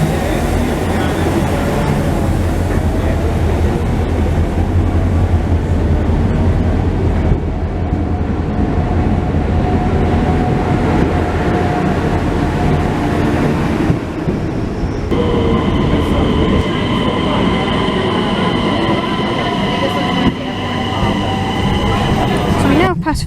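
Train rolling past near Copenhagen's central station, a steady loud rumble with wheel noise that holds for the whole stretch, with some talk underneath.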